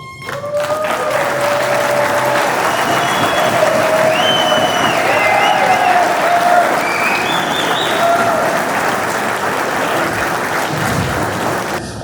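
Loud, sustained applause from a political rally crowd honoring auto workers, with cheering and whistles rising above the steady clapping throughout.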